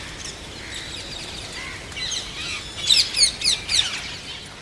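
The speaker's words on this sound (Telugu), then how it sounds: "రామచిలుకలు పావురాలు వచ్చి సందడి చేస్తున్నాయి." Parakeets and pigeons gather at a rooftop garden in Visakhapatnam, sending out bright chirps and a quick run of four loud squawking calls over faint background chatter.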